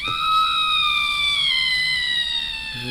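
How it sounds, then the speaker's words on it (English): A loud, sustained synthetic shriek with bright wavering tones that slowly drop in pitch, held steady for about three seconds. "That's a scream."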